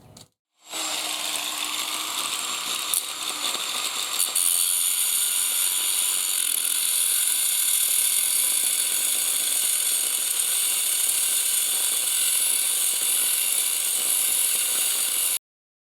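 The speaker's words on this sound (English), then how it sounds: "I'm going to go through it with an angle grinder, rotate it around, and cut the bearing race" An angle grinder cuts through a rusted bearing cup and race on a Yamaha Virago motorcycle swing arm, a loud, steady, unbroken grinding whine of about fifteen seconds with no talking.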